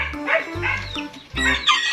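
Chabo bantam chickens in a backyard coop give a few short, close clucks and squawks in quick bursts, with gaps of quiet between them.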